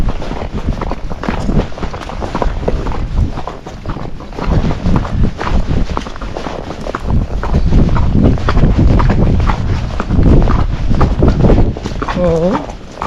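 A gaited Kentucky Mountain Horse named Lily walks with a steady clip-clop of hooves beside dogs and tarps. Wind buffets the microphone, and people talk over the hoofbeats throughout.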